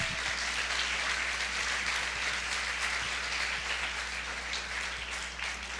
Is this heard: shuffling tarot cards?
no